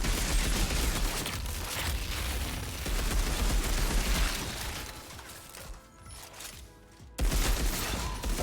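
Dense video game gunfire, rapid shots rattling in a near-continuous burst, breaking off briefly before resuming loud, with no voices.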